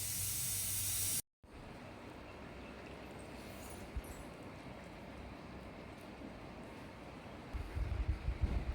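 Tempering for beetroot chutney sizzles in a pan as a steady, moderately loud hiss and spatter that continues for several seconds after a brief cut.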